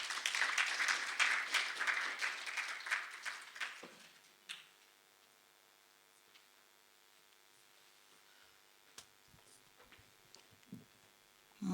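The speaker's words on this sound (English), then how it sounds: "Can we give a round of applause?" An audience at a film expo applauds for about four seconds, a crowd of claps that thins out and fades, followed by quiet room sounds with scattered clicks and knocks.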